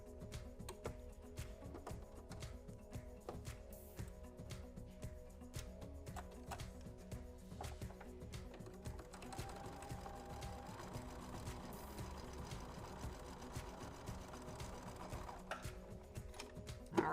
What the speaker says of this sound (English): I'm just gonna sew it to that 4 patch